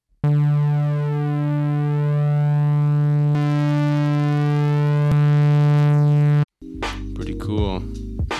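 Steady buzzy synth tone with a thick tube-distorted edge, held for several seconds, then a brief harsher, more chaotic burst at the end.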